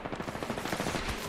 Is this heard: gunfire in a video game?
yes